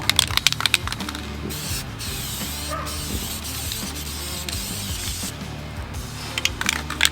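Metallic paint sprays from an aerosol can onto a car bumper for a second coat, in hissing bursts with a clicking nozzle at the start and end, close and fairly loud.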